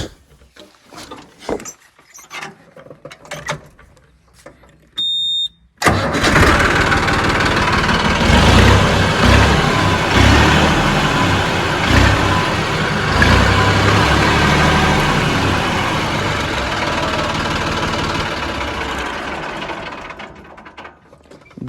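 A Massey Ferguson 9500 tractor's diesel engine cranks and fires after a few seconds of quiet handling noises, then settles into a loud, steady, close idle that runs without a break to the end.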